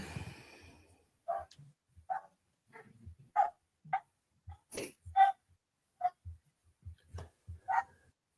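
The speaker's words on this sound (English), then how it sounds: "Dogs enjoying the last round." Several dogs bark in short, separate bursts spread across the stretch, fairly quiet and mid-distance, with gaps of silence between the barks and no talking over them.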